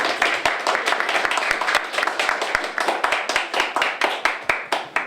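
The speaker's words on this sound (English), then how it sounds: "Mateo thinks everybody's clapping for him." Audience at a Cuban history art display and talk clapping steadily, a dense run of sharp hand claps from a room of people, near and loud, with a few voices murmuring underneath.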